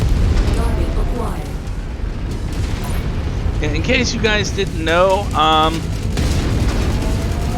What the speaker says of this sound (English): AC-20s are big ass cannons, and they can actually core assault mechs